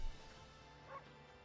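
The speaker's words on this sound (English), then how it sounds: "Bark." Single dog bark from the video game Okami, a short yip near the start and another faint bark just before the one-second mark, over steady game background music.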